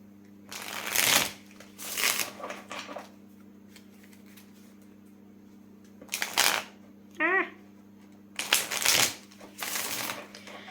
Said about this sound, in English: I need to shuffle a little more.